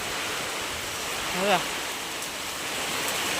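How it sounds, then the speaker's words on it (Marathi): Dense, steady hiss of heavy rain pouring down, with a brief higher tone cutting through once in the middle. "कसला पाऊस आला"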